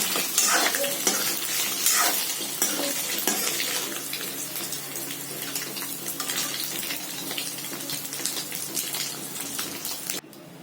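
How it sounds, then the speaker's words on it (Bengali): Dried red chillies, a bay leaf and whole cumin seeds sizzle in hot oil as a tempering, in oil just used for frying paneer. The crackle is dense, loud and steady and slowly eases, with no talking. "ওই তেলের মধ্যে দুটো শুকনো লঙ্কা আর একটা তেজপাতা আর 1 চামচ গোটা জিরেকে ফোড়ন হিসেবে ব্যবহার করছি।"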